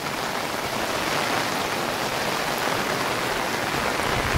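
A village downpour keeps up an even, close wash of rain hitting surfaces, steady and unbroken throughout, with nobody speaking.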